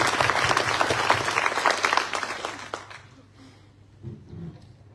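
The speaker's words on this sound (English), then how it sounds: "Please join me in giving Peter Slezak a warm round of applause" Warm audience applause at an evening institute panel discussion, full clapping for about two seconds that thins out and fades by the third second, leaving quiet room noise and a faint voice.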